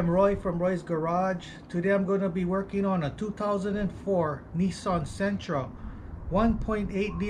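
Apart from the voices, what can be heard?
No everyday noises stand out.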